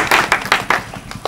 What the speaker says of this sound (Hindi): जोरदार ताली बजा के इनका स्वागत